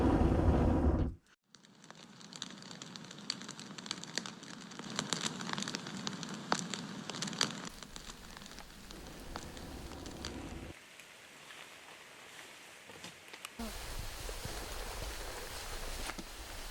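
Steady rain falls at a bushcraft camp with a tipi smokehouse, a dense hiss of drops on surfaces that runs throughout, shifting in texture partway through, with no talking.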